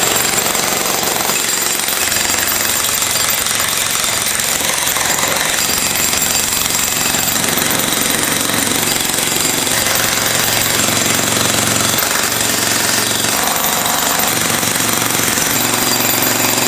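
Jackhammer chiseling out concrete and an old footer remnant in a basement foundation trench, a loud, close, continuous rapid pounding that carries on without pause throughout.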